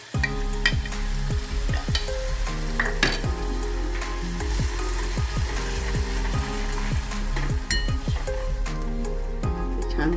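Pureed spinach cooking in a pan for palak chana masala, sizzling steadily while a spoon scrapes and stirs in quick, repeated strokes close by, with no talking.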